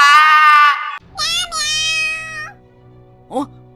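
Bông the cat meows in two clear, drawn-out calls close by, followed by a short, higher third meow.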